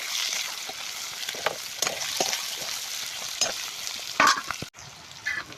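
Onions are dropped into a hot pan for a village-style goat meat curry and fry with a continuous close sizzle, broken by occasional spoon scrapes and a short louder burst near the end.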